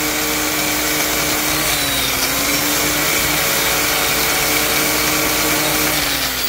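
An old Scotch-Brite abrasive wheel on a power tool grinds a metal weld seam, giving a loud, steady, continuous whine with a slight pitch wobble, close by and unbroken, with no talking.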